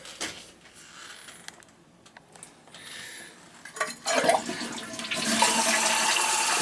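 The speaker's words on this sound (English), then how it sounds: "She's wondering why the toilet don't flush." A leaking household toilet is flushed: quiet clinks and trickling give way to a rising rush of water that stays loud through the final seconds.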